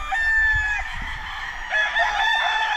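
Roosters crow loudly and close at a chicken breeding farm, with overlapping drawn-out calls over faint background clucking and thumps.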